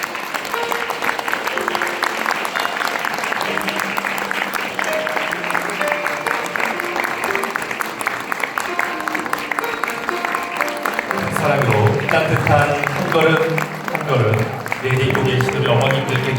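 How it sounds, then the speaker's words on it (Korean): Wedding guests give big, continuous applause as the mothers of the bride and groom enter, a steady wash of clapping that swells louder toward the end, with a voice and music running beneath it. "축복의 큰 박수로 맞이해 주시길 바랍니다"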